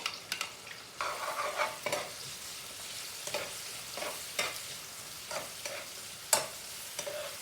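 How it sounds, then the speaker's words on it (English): Onion, garlic and pepper fry in a pan for minced chicken chow mein, a faint sizzle punctuated by frequent scraping stirs at an uneven pace, close up and without speech. "So you just put the onion in and let it fry up like about half a minute, because you don't want it to get too brown."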